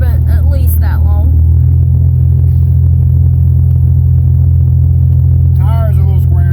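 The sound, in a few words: old GMC OBS truck driving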